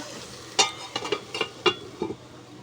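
Vegetable curry cooking in a pan at home, with several short sizzling bursts and scraping stirs spaced irregularly, close and moderately loud over a quiet background.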